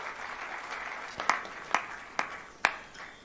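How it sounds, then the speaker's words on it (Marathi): An audience claps together at a Marathi event, Print Ahead 2024: a soft, steady wash of applause with a few sharper, louder claps standing out near the end, no voices over it. "एकदा जोरदार टाळ्या झाली"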